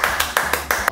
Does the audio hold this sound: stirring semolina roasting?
no